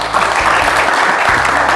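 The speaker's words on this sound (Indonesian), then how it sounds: "Tepuk tangan dulu ya, semangat." An audience claps loudly and continuously at a seminar on vocational tourism education, a dense, close wash of applause with no break.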